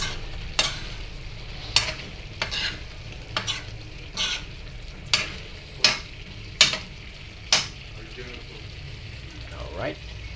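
Food fries in cooking oil with a constant low sizzle, broken by regular sharp scrapes of a utensil stirring the pan, plus a brief voice near the end.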